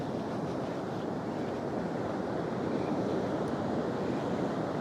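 Ocean waves surge and roar steadily on a surf beach while someone is fishing from the shore, a dense, unbroken wash of water noise with wind and no talking.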